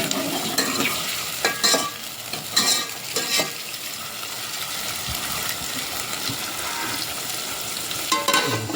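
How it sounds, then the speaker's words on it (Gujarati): Tomatoes frying in a pan while being stirred, with a steady sizzle broken by repeated scraping strokes of the spoon against the pan. "હવે એને હલાવવાનું ત્યાં સુધી ટમેટાનો રસ ન થઈ જાય ત્યાં સુધી હલાવવાનું"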